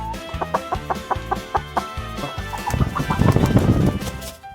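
Chickens cluck in short repeated bursts, close by, in a henhouse, with rustling and scuffling building up toward the end as a hen is caught.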